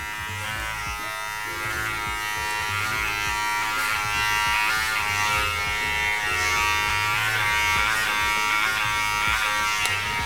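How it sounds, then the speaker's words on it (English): Electric hair clippers buzz continuously while cutting the top of someone's own hair, a steady close-up drone with small shifts in tone as the blades move through the hair. "I've cut it with the clippers"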